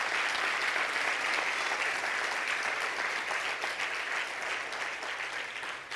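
A church congregation at a Sunday service applauds continuously for about six seconds, a dense, steady clapping from many hands that slowly eases off.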